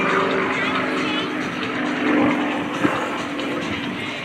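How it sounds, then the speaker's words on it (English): A 400-horsepower nine-cylinder radial aircraft engine drones steadily at moderate distance during an air show display at MCAS Cherry Point, a throbbing low rumble with a faint knock near the end. "The sound of that 9-cylinder radial engine coming in at about 400 horsepower"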